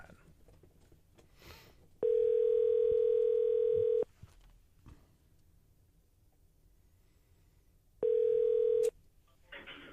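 A telephone ringback tone sounds twice, a long steady two-second burst and then a shorter one after a pause, loud and close.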